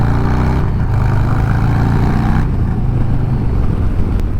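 A Harley-Davidson motorcycle engine drones steadily and loudly while riding down a road, with a continuous low rumble and wind noise throughout and no clear shifts in pitch.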